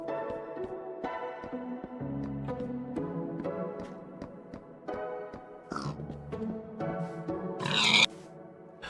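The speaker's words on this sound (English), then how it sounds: "Let's kill these pigs right here though," Pigs grunt and oink in a blocky survival video game, with several short snorting calls over looping background music, ending in a sharper burst near the close.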